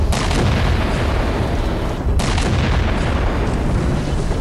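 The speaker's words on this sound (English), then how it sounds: "The biggest of explosions." A heavy booming explosion from a guided rocket in Halo 4 with a sharp onset, then a second blast about two seconds later, both over a constant loud rumbling roar.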